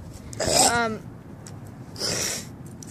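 A person clears their throat in two short, rough bursts about a second and a half apart. The first burst is more voiced and throaty, and both are close and fairly loud against a quiet background.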